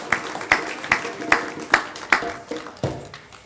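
A slow round of clapping at an outdoor Juneteenth ceremony in Oak Park, about eight distinct, fairly spaced claps at a steady rhythm, sparse and moderately close rather than a full crowd ovation.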